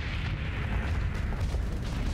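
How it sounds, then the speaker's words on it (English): High-velocity cannon fire in the space combat game Starsector: a dense run of deep booms and blasts rolling into one another over a heavy low rumble, loud and continuous for about two seconds, with no talking. "I love that we've got a high velocity cannon, by the way."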